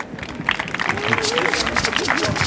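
A crowd at a street demonstration in Lille claps in scattered, irregular bursts while voices carry on over the applause at close range.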